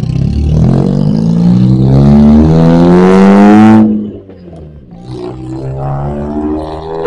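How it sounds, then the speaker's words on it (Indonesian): A manual-transmission car engine revs hard through rising tones, then drops off abruptly as a gear changes, settling into a lower idle before building again. "enak banget dah denger mobil manual shifting tuh."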